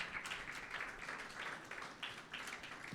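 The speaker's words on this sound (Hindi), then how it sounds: "यीशु मसीह के लिए तालियां बजाएं कलीसिया।" A congregation applauds in a church during a Sunday service, quiet, continuous clapping from many hands with a gently rising and falling rhythm.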